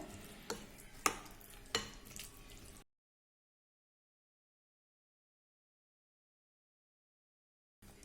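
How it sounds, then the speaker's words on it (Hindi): A spoon stirs and mixes mashed eggplant bharta (chokha) with a few soft scraping knocks for about three seconds before falling silent. "अब हमें इसे अच्छे से मिला लेना है।"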